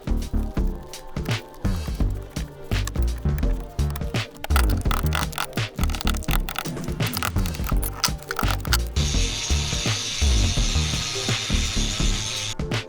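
A ratchet works on the side cover of a fat trike engine, giving a steady run of close, rapid clicking and metallic rattling, with a brief higher whirring near the end.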